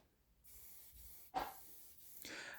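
Spray paint hisses in short bursts over the outer edge of a painting's frame, with a plywood shield guarding the canvas; two or three close, breathy spurts with quiet gaps between them.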